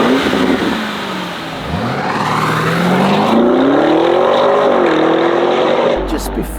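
A black Novitec Lamborghini Urus S Esteso widebody SUV, tuned to around 782 horsepower, revs loud and close, its exhaust note rising and falling through a sweeping acceleration, with a brief dip near the start.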